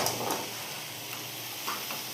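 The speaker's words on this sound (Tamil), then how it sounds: "அம்மா இப்போ ஸ்க்ரம்பிள் பண்ணி முட்டை போடுறாங்க" Eggs scrambled and stirred in a frying pan for egg fried rice with brown basmati rice, a steady close sizzle with faint scraping and tapping stirs.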